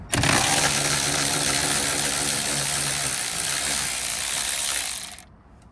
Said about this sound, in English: Now you're gonna take a 10mm and unbolt all three and catch the mirror on the other side.